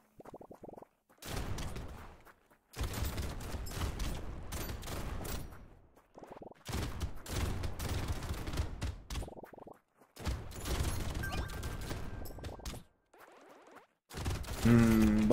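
Rocket launcher fire in the video game Brotato, a series of loud broadband bursts in clustered volleys separated by short gaps, with dense thumping explosions through most of the stretch.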